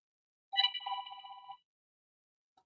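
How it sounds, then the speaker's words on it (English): A telephone rings in the 1992 western Unforgiven, a single trilling electronic ring lasting about a second, clear against silence, with a faint blip after it. "phone call."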